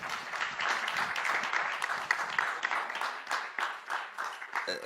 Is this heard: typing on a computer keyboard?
no